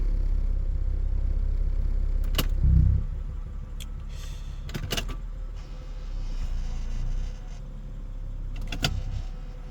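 An Acura TL Type S idles during a maintenance day, its steady low engine rumble running throughout, with a few nearby clicks and light rattles over it.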